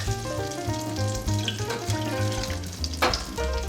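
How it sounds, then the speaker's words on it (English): Four tablespoons of butter melting in a pan give a steady, close sizzle with a soft crackle that runs the whole time, over a constant tonal background hum. "I'm gonna add 4 tablespoons of butter, and I'm gonna let that melt."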